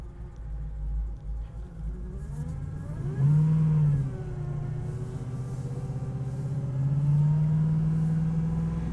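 A 1970 Chevrolet Camaro restomod engine, warmed to just under 200 degrees, runs steadily with a low rumble, its pitch rising briefly a couple of times before settling back to a smooth idle.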